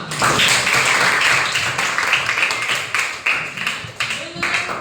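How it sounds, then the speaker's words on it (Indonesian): A group of children clapping together in a classroom coding lesson, a burst of fairly loud, uneven claps lasting several seconds with some voices mixed in. "Tepuk tangan semua."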